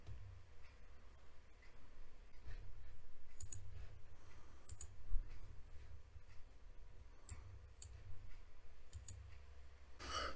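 A computer mouse clicks faintly during logo design work, scattered single and double clicks at uneven intervals over a quiet low room hum.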